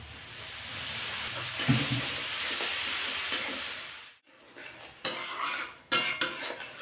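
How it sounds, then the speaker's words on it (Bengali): Ground cumin, chili and coriander powder fry and hiss in a pan while a utensil stirs and scrapes, making a steady sizzle, then sharper clinks and scrapes near the end, close up with no voices. "ভালো করে কষিয়ে নেব।"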